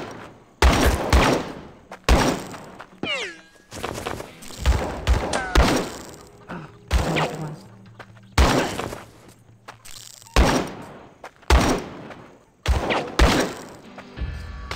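Loud gunshots ring out in the online shooter game Guns at Dawn, a rapid irregular series of sharp cracks with echoing tails, some in quick bursts, others spaced apart.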